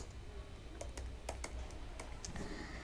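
Keys on a computer keyboard tapped in short, irregular bursts of sharp clicks, a few more distinct strokes standing out over a steady low room hum, no voices.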